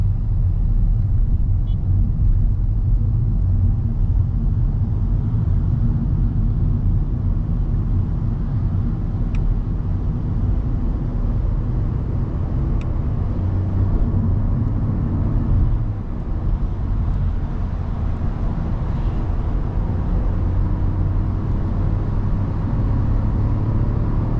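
A VW Golf 8 with a 1.0-litre 110 HP engine, heard from inside while driving: a steady, loud low engine and road rumble runs the whole time, without talk.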